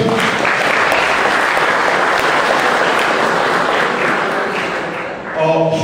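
A crowd of sailors and guests at a sailing season awards ceremony applauds steadily, dense clapping that holds loud for several seconds before tapering off as a voice begins.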